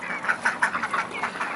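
Broody chicken clucking in a series of short, close, rhythmic calls, fairly loud and with no talk over them.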